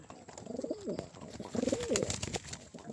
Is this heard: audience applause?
no